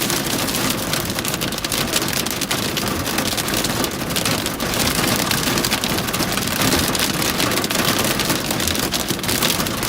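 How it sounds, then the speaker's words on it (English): Heavy rain pours down steadily during a thunderstorm in Colorado Springs, a loud, dense, continuous hiss of drops drumming on surfaces close by, with no voices. "That is quite the downpour. Oh, it's really coming down now."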